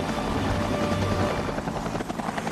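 A helicopter hovers with a tense, precise pilot at the controls during a televised challenge stunt, its rotor and engine making a loud, dense, continuous roar that fills the scene with no voices over it.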